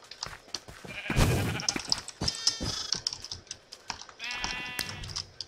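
Sheep in the video game Minecraft bleat repeatedly in short, wavering cries, a burst near the start and more later, over quick tapping clicks and game noise.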